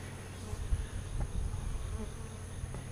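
Honey bees buzz in a steady, dense drone at a guarded hive entrance, heard close up with a low hum and occasional soft bumps, with no voices.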